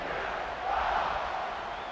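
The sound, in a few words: stadium crowd cheering in College Football 26 video game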